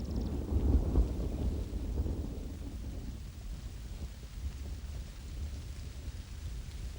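Steady heavy rain with low rumbling thunder, loud and close, the downpour strongest early and then settling into a continuous wash, as a hen harrier hen shelters her four chicks on the nest.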